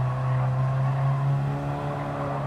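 A small Alfa Romeo race car in a touring car championship race drones steadily with a buzzing engine note, held at fairly even revs and moderately close, with no voices.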